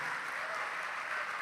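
Church congregation applauding during a religious programme, a short, even patter of many hands clapping at moderate volume, with faint voices beneath.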